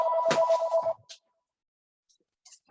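An incoming call sets off a phone ringtone with a steady electronic tone for about a second, then the ringing stops and near silence follows, broken only by a couple of faint blips.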